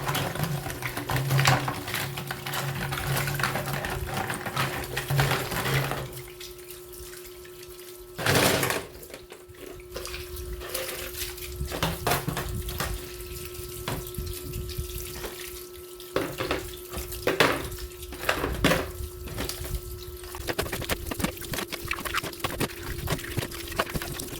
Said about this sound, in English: Wash and rinse thoroughly.